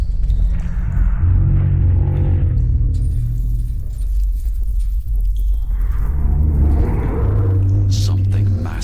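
A massive creature in shadow rolls and undulates beneath a silent electrical storm, letting out a deep, chilling, bellowing groan over a heavy, continuous low rumble that swells, eases, and swells again.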